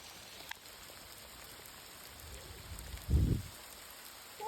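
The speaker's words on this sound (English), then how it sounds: "There's a bit of hail." Hail falls on a hiking trail, a soft, steady pattering spread evenly across the ground, with one brief, louder low thump near the end and no voices.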